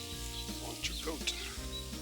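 Entrecôte steaks sizzle over a vine-wood fire outdoors in Limoges, France, a quiet steady crackle and hiss with a few sharper pops, heard at a modest distance.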